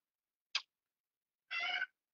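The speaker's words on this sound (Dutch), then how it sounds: "Mijn kat krijst." A house cat gives two short screeches, a brief sharp squeal and then a longer harsh cry a second later, both close against silence.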